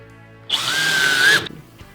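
A power drill drives a screw into a wooden frame in one short burst of about a second, its motor whine rising steadily and close, then cutting off, followed by a faint click.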